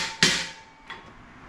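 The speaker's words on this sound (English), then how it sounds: "hammer her down, make sure it's in." A hammer taps a garage shelving ledge's tab down into its hole: one sharp, close metallic strike, then a second lighter tap, in a quiet room.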